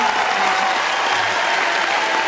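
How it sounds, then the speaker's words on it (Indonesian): Classroom applause for two students, a burst of steady clapping from a group of children, loud and close, continuing evenly without a break. "Beri tepuk tangan kepada kedua siswa."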